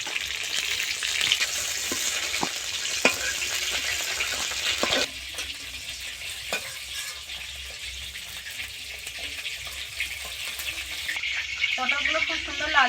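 Whole pointed gourds sizzle in hot oil with a loud crackling hiss and sharp spatula taps on the pan, then the frying quiets to a softer, steadier bubbling.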